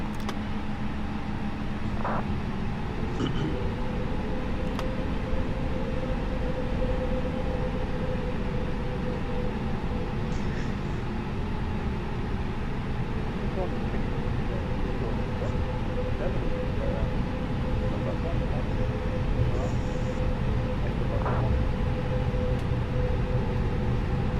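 An EasyJet Airbus A320 in Microsoft Flight Simulator 2020 rolls for takeoff with a steady engine roar and rumble and a rising tonal whine, while pilots talk over the noise.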